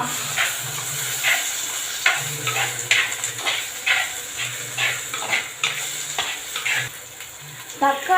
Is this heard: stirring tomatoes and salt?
yes